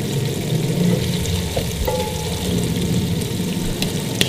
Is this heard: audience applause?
no